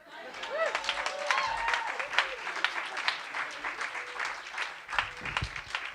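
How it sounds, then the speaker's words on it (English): Audience applause following a storytelling performance about New York City, dense clapping filling the space steadily, with some voices and whoops mixed in from the crowd. "Sincere applause, indeed."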